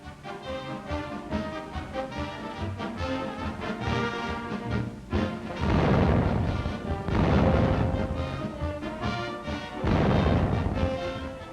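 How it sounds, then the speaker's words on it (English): Army cadets fire new artillery guns at a fort, producing heavy repeated booms and crashing blasts that swell into loud rumbling bursts over a dense, continuous background. "Here, all types of new guns are demonstrated, with the cadets doing the actual loading and firing."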